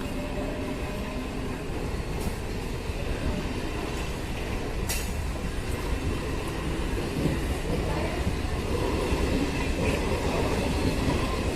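An Indian Railways MEMU electric multiple unit train rumbles steadily and builds as it accelerates, with a continuous motor whine and occasional wheel squeals over the roar.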